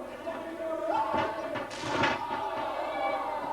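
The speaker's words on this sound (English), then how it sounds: "Styles suplex David Young into the turnbuckle." In an NWA Wildside television wrestling match, a wrestler is suplexed into the turnbuckle with a couple of dull heavy thuds. Crowd noise and commentary run underneath.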